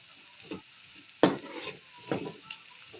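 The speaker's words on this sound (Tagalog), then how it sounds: "Nag-fry ko yung patatas. Ihahalo ko yan sa corn beef." Fried potatoes stirred into corned beef crackle in a pan, with a few distinct scraping stirs over a quiet, low sizzle.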